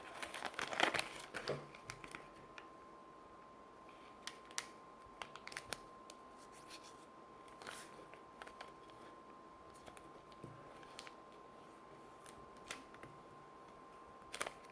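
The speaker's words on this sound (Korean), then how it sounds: "그 다음에 또 세로로도 또 이렇게 접어줍니다." Paper being folded for a Paper Blade origami frame, with a burst of crinkling early on, then scattered soft creasing taps and rustles over a steady faint hum.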